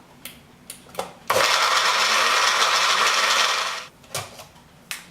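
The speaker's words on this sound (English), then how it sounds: "the key is to blend them really well" A few light clicks and taps, then a blender whirs loudly at high speed for about three seconds blending homemade baby food with water before stopping, followed by more handling clicks.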